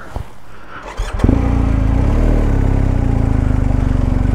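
A vehicle on Bolivia's Death Road, Ruta 25, near water crossings: quiet rustling gives way to an engine that starts up loud and close, then holds a steady, throbbing idle-like rumble.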